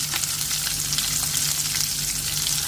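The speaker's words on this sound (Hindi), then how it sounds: "अब इसे अच्छे से भूनेंगे।" Ginger garlic paste frying loudly in oil in a pan before mutton goes in, a close, intense crackling sizzle that stays steady throughout with light stirring.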